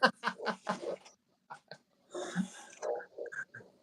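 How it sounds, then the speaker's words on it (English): Kangaroos in the Australian outback give a series of short, harsh barking and huffing calls, loud and close in two bursts separated by a brief pause, with no talk over them. "that's actually kangaroos barking"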